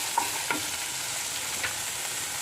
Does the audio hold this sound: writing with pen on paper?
no